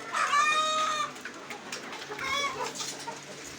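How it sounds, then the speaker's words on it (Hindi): Two half-grown chukar partridge chicks call up close, one long, bright whistling trill followed after a pause by a shorter burst of chirps over a faint background hum. "चकोरों के बच्चे हैं जी दोनों माशाल्लाह अब काफ़ी बड़े हो गए हैं"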